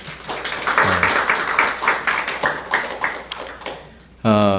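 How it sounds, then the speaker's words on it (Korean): A church congregation at a Sunday worship service claps in welcome for a visiting pastor's wife, with loud, steady rhythmic clapping that fades out just before a voice starts speaking at the end. "우리 박수를 한번 환영하겠습니다"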